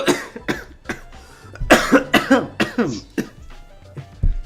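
Several sharp coughs in close succession, fairly loud and near, with a throat-clearing rasp between bursts.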